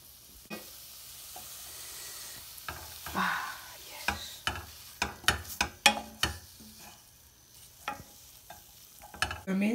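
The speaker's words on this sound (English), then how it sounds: "A minute of sizzling, turn it off." Wine cooks in a hot pan for Italian-style ramen, sizzling softly under a run of sharp stirring scrapes and clatters that come in quick irregular bursts, with no talking.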